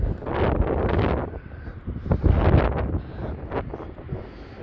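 Gusty wind buffets the microphone on an outdoor walk along a town-centre street in Blackpool, a loud, uneven rumble that swells and eases in bursts for the whole stretch.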